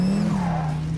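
A Donkervoort D8 GTO sports car power sliding, its tyres giving a loud, sustained squeal that holds steady for about a second, close up with no talk.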